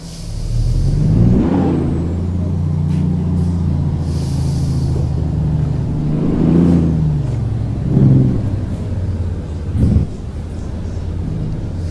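A heavy truck driven in American Truck Simulator, its engine droning loudly and steadily with rising and falling revs, sharp air-brake hisses and a few clunks cutting in along the way.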